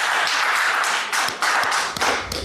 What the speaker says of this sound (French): Applaudissez-le au moins.